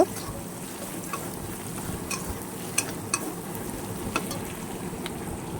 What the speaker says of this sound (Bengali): এবার আদা আর রসুনটা আমি ভালো করে ভেজে নিচ্ছি।